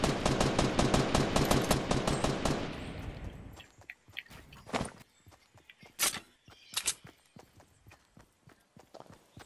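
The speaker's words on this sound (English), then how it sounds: "There's somebody from Moisty shooting me" Gunfire in a multiplayer shooter game, a fast loud burst of rapid automatic shots that cuts off, then several scattered single shots, some closer and some more distant.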